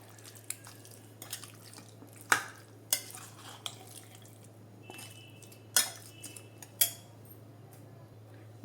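Fried onions being stirred into Hyderabadi chicken biryani ingredients, a handful of sharp scattered clinks and scrapes of a spoon against the vessel over a faint steady hum, with quiet gaps between strokes.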